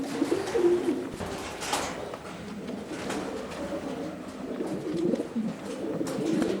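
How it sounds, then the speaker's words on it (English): Racing pigeons, Delbar stock birds, coo softly and repeatedly inside a loft, several birds overlapping, with faint rustling and flutters in between. "This is a scene inside one of the stock sections. This section contains Delbar pigeons."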